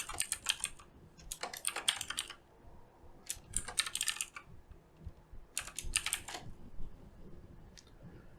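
Close, crisp keystrokes on a computer keyboard as an API name is typed, falling in several short bursts separated by pauses, with no voice.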